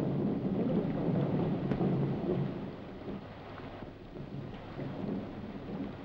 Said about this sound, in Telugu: అరే వర్షం ఇంకా తగ్గలేదు